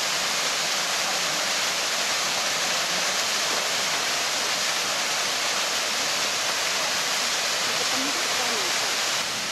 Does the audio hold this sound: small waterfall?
yes